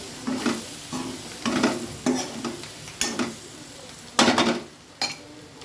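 Egg-stuffed capsicum curry fries in a pan while a spoon stirs it, sending out repeated scraping and clinking strokes over a steady close sizzle, with no voices.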